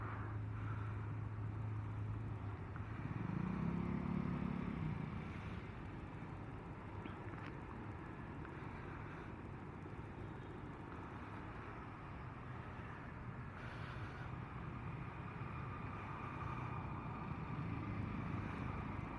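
Monday morning rush-hour traffic on EDSA near the Kamuning Flyover, a steady low rumble of vehicles with a heavier engine swelling briefly early on, heard at a moderate distance.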